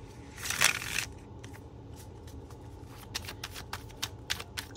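Tarot cards are riffle-shuffled in one brisk, close burst near the start, followed by a series of light taps and clicks as the deck is squared and handled. No one speaks.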